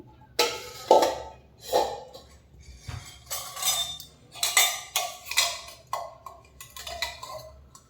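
Metal pots, vessels and tumblers clink and clatter in a series of irregular knocks, fairly close, as items are set down and shuffled together while packing a hospital bag.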